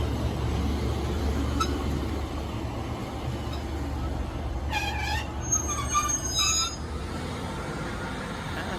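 A train on the Marston Vale line rumbles steadily nearby as it pulls away, with high metallic wheel squeals rising briefly partway through and a constant low roar.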